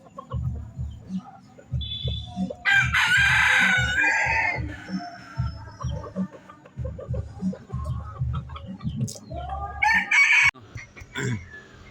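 Labuyo junglefowl, pure stock crossed with bantam, crowing loudly twice over a steady run of close, rhythmic clucking from a hen, with other birds calling in the background.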